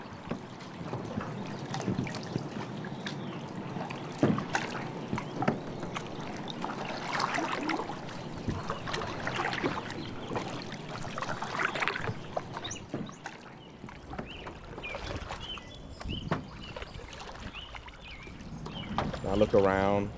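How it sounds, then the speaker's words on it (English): Small boat paddled along the Columbia Slough in Portland, with soft water trickles and dips close by over a quiet outdoor background, growing a little louder toward the end. "I look around while I'm paddling the slough."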